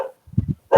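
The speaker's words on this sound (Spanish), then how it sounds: "Este es mi perro ladrando" A dog barks indoors, a couple of short low woofs close by, with a brief higher whimper or vocal sound at the start and end of the burst.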